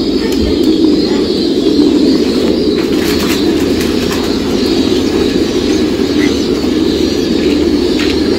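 Pigeons cooing at a farm raising large numbers of pigeons from squabs to laying birds, a dense steady murmur of many birds close by, running continuously at a fairly loud level.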